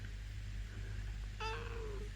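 A domestic cat gives one short, soft, small meow indoors, brief and fairly faint against a low steady background hum.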